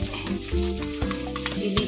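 Fried battered cauliflower for chilli gobi is stirred with tomato, chilli and soy sauces in a hot pan. The pan sizzles steadily while a utensil scrapes and clatters close by. The burst is brief.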